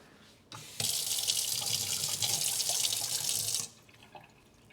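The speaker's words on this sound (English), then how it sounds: "let me wash this out." A kitchen tap runs full for about three seconds as a utensil is rinsed under it, a steady close hiss of water that starts abruptly and cuts off, with a small clink after.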